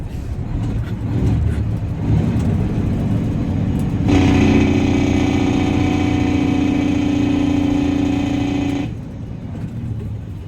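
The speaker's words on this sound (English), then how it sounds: "Should we test the horn?" Peterbilt semi truck air horn blasting in one long, loud sustained honk of about five seconds, rich and brassy, over a steady idling diesel engine rumble.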